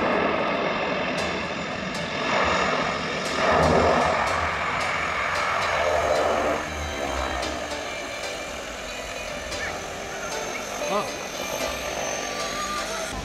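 A helicopter flies near Lukla Airport in Nepal's Everest region, giving a broad, steady engine roar that swells and fades slightly over several seconds while people talk nearby.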